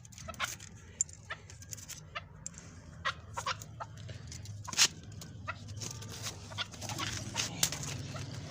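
Chukar partridges in a cage let out repeated short clucks and calls at irregular intervals. The calls sound fairly close, over faint background noise and rustling.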